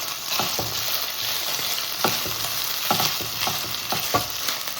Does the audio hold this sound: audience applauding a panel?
no